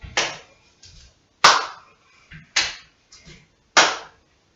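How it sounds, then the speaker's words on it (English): Sharp single hand claps during a yoga exercise ring out close and crisp, about four strong ones spaced roughly a second apart with softer taps between them, in an otherwise quiet room. "Add in a clap if you want to"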